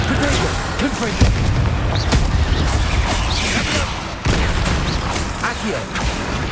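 The Confringo blasting spell in Hogwarts Legacy lands as booming bursts within loud game noise, with a distinct blast near the start and another around four seconds.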